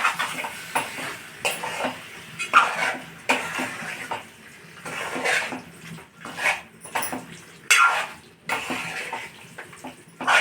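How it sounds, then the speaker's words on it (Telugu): Gongura chicken being stirred and mixed in a pan, with repeated scraping and clinking of a utensil against metal in uneven bursts, fairly close and moderately loud, no talking. "బాగా మిక్స్ చేసుకోవాలి."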